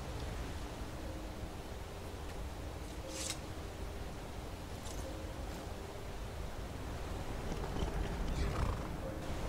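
Hooves clop steadily under a wash of noise in Skyrim, with a horse whinnying briefly, the sound fairly close and continuous with a few sharp higher bursts.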